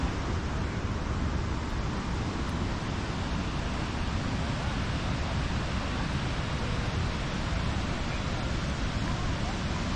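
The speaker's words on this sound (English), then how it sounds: "as we get closer you'll hear the amazing roar and the power." Powerful waterfall at Hellesylt, Norway, a steady broadband roar that fills the whole clip, loud and unbroken with no pauses or distinct events.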